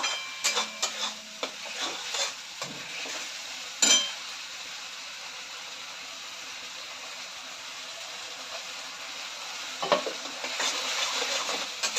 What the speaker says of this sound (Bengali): এই মশলাটাকে আমি লাল লাল করে ভেজে নেবো একটু।